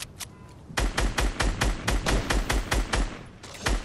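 Rapid bursts of automatic gunfire during a Fortnite trios match, a steady run of roughly a dozen sharp, loud shots at an even rhythm after a couple of earlier single cracks, with no talk over them.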